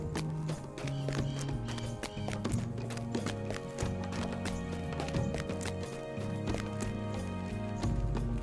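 Rhythmic clip-clop hoofbeats of a horse running in the video game Lord of the Rings Online, steady and moderately loud over a layered musical score.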